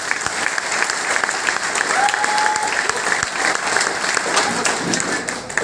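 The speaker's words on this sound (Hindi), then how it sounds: "जोरदार ताली दीजिए" Loud, dense audience applause at a motivational Amway India event fills the hall evenly for several seconds, a sustained wash of many hands clapping at once with a faint crowd murmur.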